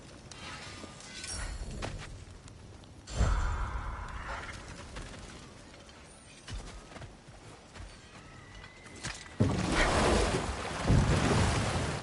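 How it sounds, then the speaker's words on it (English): A waterfall rushes in God of War Ragnarok, a broad hissing wash of falling water that swells and fades in surges, with wind-like noise and no speech. "Waterfalls. We're close."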